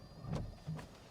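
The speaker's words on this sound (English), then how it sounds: "we do still have a standard size sunroof, which opens right up and has the pop-up wind buffer" A 2023 Honda Accord Sport's standard-size sunroof with pop-up wind buffer opening: two short, faint electric motor whirs inside the cabin, with no talking.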